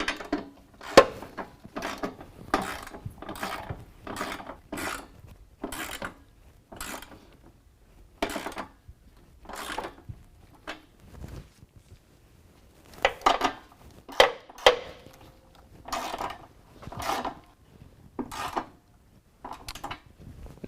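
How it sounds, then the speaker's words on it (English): Ratchet fitted with a 13mm socket tightening the bolts on a truck's running board brackets, giving a run of sharp, repeated clicking bursts up close with short pauses between them and no talking. "Now with those tight, we can go back through and tighten up the top two bolts."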